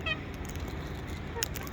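A farmyard bird, tagged as a goose or fowl, gives a short honking call near the start, then a second brief call later, set against steady background noise.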